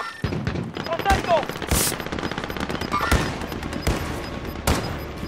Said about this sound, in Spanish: ¿A qué le estás disparando, Andrés